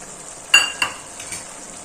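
Fried cashews and Bhavnagari gathiya stirred in a pan during cooking, with two short scraping stirs over a faint background sizzle and a couple of softer strokes after, no talk.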